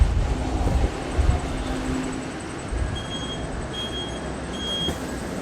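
A steady low rumble of a metro train in motion in Peshawar with faint tonal whines and a brief horn-like tone, continuous with no voices.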